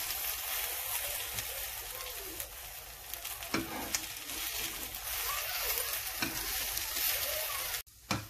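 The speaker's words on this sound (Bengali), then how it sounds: "ডিমটাকে এরকম আস্তে আস্তে ফোল্ড করে নেব।" An egg sizzles softly in a pan as it is slowly folded, giving a continuous quiet frying hiss with scattered scraping and stirring sounds and one brief pause near the end.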